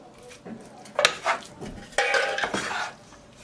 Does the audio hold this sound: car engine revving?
no